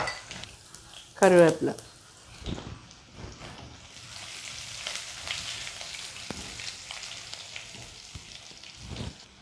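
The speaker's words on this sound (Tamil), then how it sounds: "கடுகு வெடிக்கிறது" Mustard seeds sizzle and crackle in hot oil with light pops, accompanied by clinks of a utensil against a pan; a voice speaks briefly early on.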